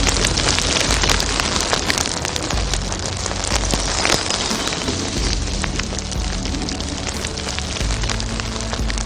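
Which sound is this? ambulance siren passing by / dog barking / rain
rain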